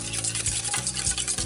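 A whisk beats mustard, oil and orange zest together in a bowl, steady rapid strokes with a few heavier scrapes against the sides, close and fairly loud.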